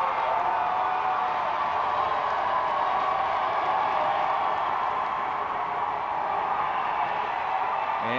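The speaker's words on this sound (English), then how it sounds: "Hazen's crowd getting it revved up a little bit." Hazen football crowd at the 2012 Dakota Bowl Class A game, a steady roar of cheering and clapping rising in the stands through the whole stretch, dense and continuous with no pauses.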